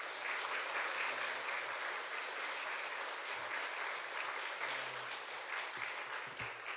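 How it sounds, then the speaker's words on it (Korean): A church congregation claps steadily for nearly seven seconds to welcome a missionary serving in Latvia during a Sunday service, the dense applause staying even and full throughout. "선교사님 나오실 때 우리 큰 박수로 환영해 주시면 감사하겠습니다"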